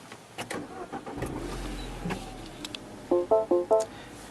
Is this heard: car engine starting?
yes